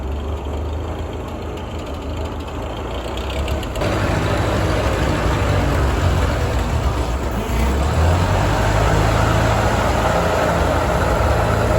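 Small yellow loader tractor, a Massey Ferguson TO-35 on a farm, its engine cold and idling as it warms up, a steady low diesel rumble that grows louder and rougher partway through, no talking.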